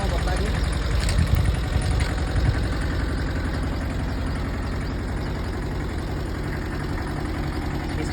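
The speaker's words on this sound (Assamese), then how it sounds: "ইঞ্জিনৰ চাউণ্ড ধুনীয়া হৈছে, ইঞ্জিনৰ চাউণ্ড দেখাই দিয়ে" A Tata Ace Ex mini truck engine idles close by in a steady, even rumble that holds at the same level throughout, with a faint voice underneath.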